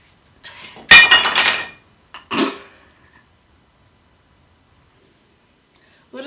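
Glass crashes and shatters in a sharp loud burst of tinkling shards, followed by a second smaller smash and scattered clinks, then near silence.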